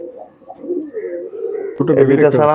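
Pigeons coo in low, rolling tones, then a voice starts talking close by over the birds.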